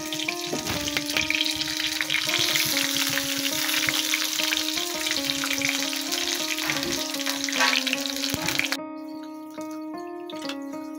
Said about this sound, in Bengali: আরেক সাইড ভেজে নিচ্ছি, নিয়ে লাল লাল করে গোল্ডেন ব্রাউন যেটা বলে সেই কালারটা করে হওয়ার পর এটাকে নামিয়ে নিতে হবে।